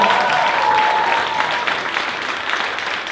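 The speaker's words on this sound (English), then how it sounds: "Please give these ladies a round of applause." Audience applause for a panel at a club talk event: steady, dense clapping from a crowd, fairly close and continuous throughout, fading slightly toward the end.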